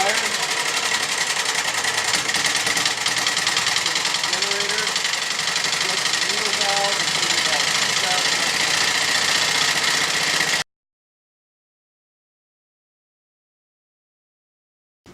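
A glass lab engine fires and runs, a steady rapid mechanical chatter and buzz held at a constant loud level for about ten seconds before cutting off abruptly into silence.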